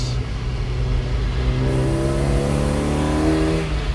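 A car nicknamed Mad Max revs its engine hard and close, a loud continuous rumbling roar that climbs in pitch toward the end.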